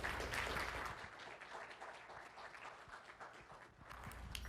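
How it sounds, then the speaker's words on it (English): Applause from people at a chamber of commerce luncheon, quiet and somewhat distant, an uneven patter of claps that fades slightly and then picks up again toward the end. "let's give them a big round of applause for sure"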